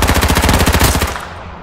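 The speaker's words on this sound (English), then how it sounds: "Still trying to shoot me" Rapid automatic gunfire in the battle royale game H1Z1, a loud, evenly spaced burst of about fifteen shots that ends abruptly and tails off into a fading echo, with no talking.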